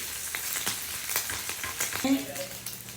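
Pre-cooked turkey bacon crisping in a hot pan gives a steady, close sizzle with soft scraping and clicking from the utensil, with no voices.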